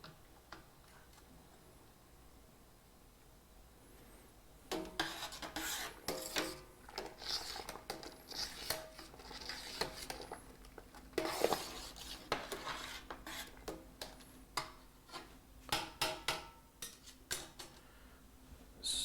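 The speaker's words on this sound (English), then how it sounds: "Our hops have dropped to the bottom. Let's quickly stir it up." A long-handled spoon stirs settled hops through a boiling Kölsch wort in an open brewing kettle, giving close, irregular clinks and scrapes against the metal pot over a low background hum. Nobody talks.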